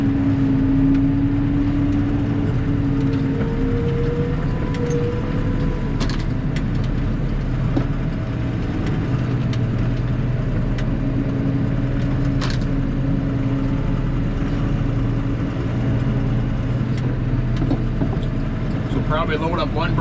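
A tub grinder runs steadily, grinding hay bales, with a loud continuous engine drone and rumbling churn that holds constant throughout, marked by occasional faint knocks and clatter.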